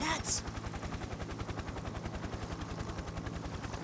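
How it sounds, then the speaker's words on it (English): A helicopter approaches from above in the Persona 4 Arena Ultimax video game: a fast, even rotor thudding pulses close and continuous under a low drone, opening with a short bright burst. "I see a previously hidden black helicopter to the otherwise pitch-black sky"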